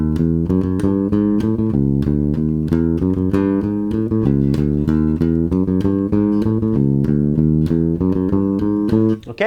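A bass guitar plays a repeating 16th-note groove variation in a steady rhythm of clear plucked notes, loud and close with no talking.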